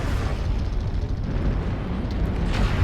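An artillery strike in a video game explodes as a dense, loud, sustained roar of blasts and rumbling, with a sharper burst near the end.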